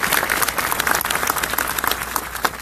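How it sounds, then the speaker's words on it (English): Audience applause at an Air Force basic military training graduation, a dense steady roar of many hands clapping close by, filling the whole stretch with no voices. "let's give a round of applause to our MTI"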